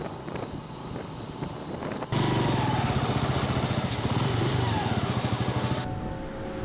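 Bajaj Boxer 125 motorcycle riding along a road, its steady engine drone with rhythmic low pulsing rising sharply and holding loud, mixed with wind rush, then the high hiss drops near the end.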